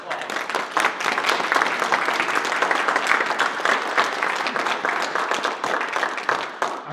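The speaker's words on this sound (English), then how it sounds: "Let's give a round of applause." A roomful of people at a Democratic general meeting breaks into sustained, dense clapping that stays loud and even throughout, with no voices over it.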